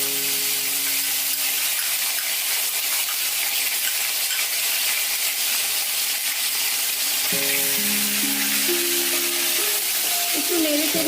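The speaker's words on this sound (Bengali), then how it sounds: "এরপর আমি এর মধ্যে পেঁয়াজ বাটা দিয়ে দিচ্ছি" Onion paste fries in a pan for a prawn malai curry, giving a constant hissing sizzle heard close up, with some tonal sounds entering in the last few seconds.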